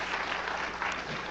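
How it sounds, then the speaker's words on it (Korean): A short burst of applause from a congregation at a Korean church revival meeting, steady clapping throughout with no voices on top. "여기 박수 한번 해요."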